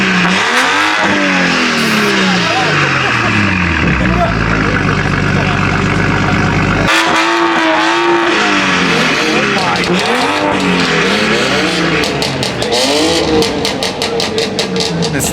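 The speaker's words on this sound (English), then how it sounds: "Yeah, the McLaren. Sean's revving it." McLaren sports car engine revving hard nearby, loud blips and sustained roaring climbs with a pause mid-way, while people talk over it.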